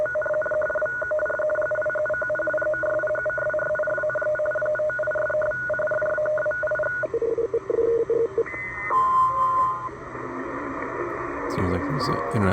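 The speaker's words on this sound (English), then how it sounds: "Here's some radio teletype. Most likely the U.S. Navy." Shortwave radio teletype signal, likely U.S. Navy, heard around 12 MHz: steady warbling data tones with a constant hiss, shifting in pitch as the tuning moves, with faint voice underneath.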